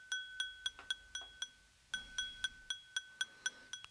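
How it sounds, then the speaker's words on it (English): A glass is struck repeatedly, about fifteen bright ringing clinks in an uneven rhythm, each a sharp tap with a short sustained tone, close and clear with nothing else around it. "Now we're going to go to a sample of a glass,"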